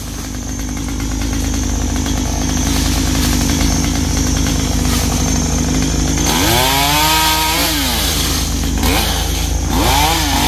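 A chainsaw cuts a tree in 37°C heat, running loud and close with a steady engine drone that rises into several revving surges as the blade bites into the wood.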